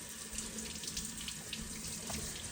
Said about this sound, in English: We want to remove it from the brine and go ahead and start rinsing it under cold